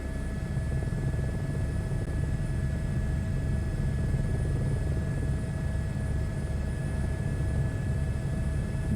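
Steady, droning rotor and engine noise of an Airbus H125 helicopter hovering in Microsoft Flight Simulator 2024, constant and loud throughout with a low thumping pulse, no voices.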